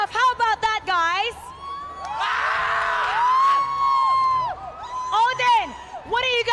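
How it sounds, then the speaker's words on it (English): An esports event crowd cheering in a cheer-off, with a sustained loud roar of shouting and whooping voices, broken by short chants and yells at the start and end. "we're gonna settle this with a cheer off"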